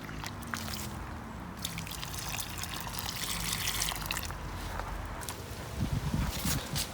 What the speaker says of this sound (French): je vais arroser un peu quand même